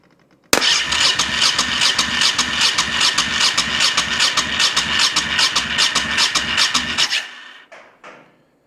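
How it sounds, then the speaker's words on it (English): A Honda VT1100 motorcycle engine cranks with a fast, steady rhythmic churning and sputters for about seven seconds, loud and close, then stops, leaving a couple of faint clicks. "Now I'll turn the key on and we should get some kind of sputtering as we crank."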